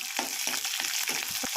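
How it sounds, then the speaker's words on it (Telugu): Green chillies drop into peanuts frying in hot oil for tomato rice, with a steady close sizzle and repeated scraping stir strokes throughout. "తర్వాత మనం లైట్గా స్టిర్ చేసుకొని తర్వాత పచ్చిమిర్చి వేసుకోవాలి."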